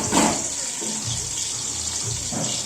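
Onions frying in hot oil for chicken biryani, a steady bright sizzle throughout with a few louder bursts of crackle near the start and end, close by and without voices.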